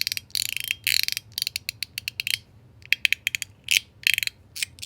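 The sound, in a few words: Zirc secret slider fidget toy clicking, tuned to standard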